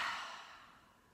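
One soft exhale breathed out through the mouth during a vinyasa yoga session, a close airy sigh that fades away over about a second.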